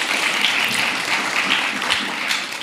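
Audience applause at a Japanese speech contest in Kenya, a steady wash of clapping from a crowd that holds evenly for the whole stretch, with no voices over it.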